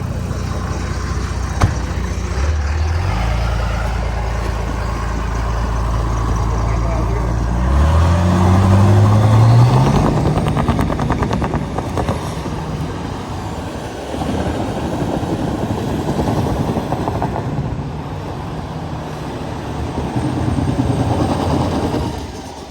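A Cummins-swapped Dodge Charger revs its diesel engine loudly with a rising pitch, building into a sustained tire burnout roar with heavy rumble throughout, close and dominant.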